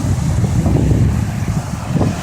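Flash flood water rushing down a hillside road in Borrego Springs, a steady, loud, broadband roar with wind buffeting the microphone throughout and no voices.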